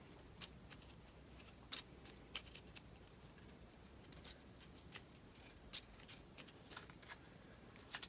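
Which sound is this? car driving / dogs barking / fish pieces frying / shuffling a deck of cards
shuffling a deck of cards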